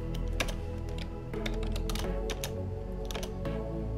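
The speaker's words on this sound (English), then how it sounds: "in user mode, you type the command save." Keys are typed in short irregular bursts on a computer keyboard to enter a command during network switch setup, with crisp close clicks over a low steady hum.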